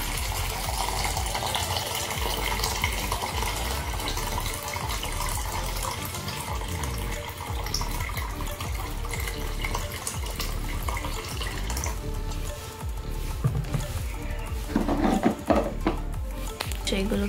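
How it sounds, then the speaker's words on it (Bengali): Water poured into a filter container, a steady splashing, running flow close by that continues throughout and grows busier toward the end. "এখন এইটার মধ্যে একটু জল দিতে হবে"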